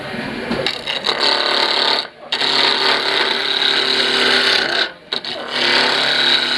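Spindle roughing gouge cutting a not-yet-round wood blank on a lathe: loud, steady rough grinding and chattering close by, broken by two short pauses where the tool lifts off.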